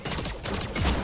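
A short, loud volley of gunfire in the shooter Lawbreakers, several quick shots packed close together with a heavier thump near the end.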